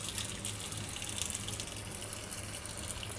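Water being changed for pet catfish: a steady, continuous gush of running water pouring and filling, close and fairly loud with no pauses.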